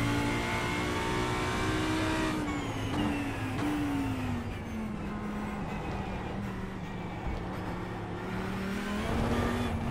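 An Audi R8 LMS GT3 EVO race car at a wet Imola in iRacing drones with a steady engine note that dips and rises gently as it holds speed, over a hiss of road noise.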